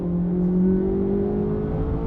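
A 2025 Chevrolet Corvette on a race track, E-Ray or Z06, holds a steady engine drone as it pulls under power, its pitch rising slightly, heard from inside the car with no talk.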